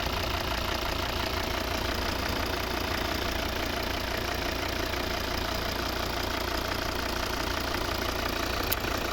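A 2013 Volvo V60 2.0 D4 diesel engine idles steadily and evenly, a continuous low rumble with a faint rhythmic knock, no voices.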